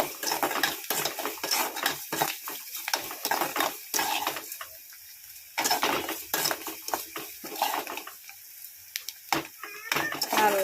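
Onions sauté with rock salt in a pan for a village-style brinjal and drumstick kuzhambu: a soft sizzle under repeated metal scraping and clinking of a stirring spoon, coming in bursts.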